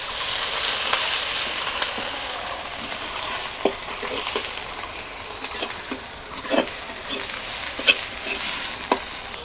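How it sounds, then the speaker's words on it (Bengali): Mustard paste frying and being stirred in a pan for a Bengali hilsa dish with brinjal, a continuous sizzle broken by frequent scraping and tapping of the spatula, close and unaccompanied by speech. "এবারে আমি এই সর্ষে বাটাটা দিয়ে দেবো। সর্ষেটা দিয়ে একটু কষিয়ে নেব।"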